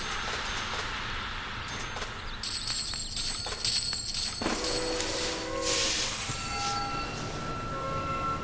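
Train running in Sid Meier's Railroads, a steady rolling rumble with hissing steam and clattering wheels, overlaid by a sustained tonal whistle that shifts pitch midway, loud and continuous with no talking.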